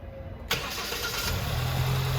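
A SsangYong car's engine cranks and catches after an oil change, a sharp start followed by a steady, close idle that rumbles on without voices.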